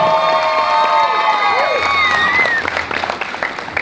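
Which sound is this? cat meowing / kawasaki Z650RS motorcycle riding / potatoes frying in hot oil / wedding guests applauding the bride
wedding guests applauding the bride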